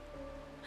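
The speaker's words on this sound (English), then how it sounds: "This is the sound of rain." Steady rain from the video game Honkai Star Rail, a soft continuous patter and wash with a faint tonal hum beneath, heard briefly and alone.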